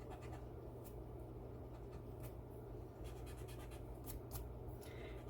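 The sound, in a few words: eraser rubbing out a pencil mark on paper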